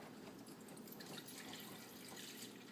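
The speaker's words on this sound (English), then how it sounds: "So we're gonna go ahead and pour some spring water up to level 3 in the pitcher." Spring water poured into the plastic pitcher of a Beaba Babycook baby food maker, a steady, soft liquid trickle and splash running throughout at low level.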